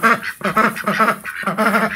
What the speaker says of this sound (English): Yeah, those ducks put up a racket.